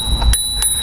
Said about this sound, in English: It does come with somewhat of a bell.